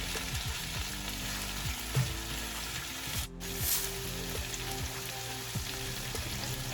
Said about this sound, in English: You want to stir your onions every few minutes to get them all nice and soft.